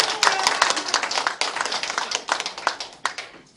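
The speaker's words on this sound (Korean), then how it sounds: "박수 한번 주세요." People at a Korean political meeting clap for a speaker. The claps are sharp, fairly close and slightly uneven, from a modest crowd, and rise and fall in quick bursts before tapering off.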